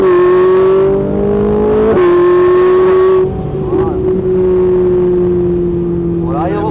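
A Ferrari 458 on a circuit pulls hard with a loud, close engine note climbing through the revs, easing briefly and then holding a steady, high drone.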